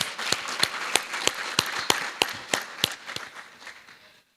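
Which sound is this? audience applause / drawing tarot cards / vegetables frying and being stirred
audience applause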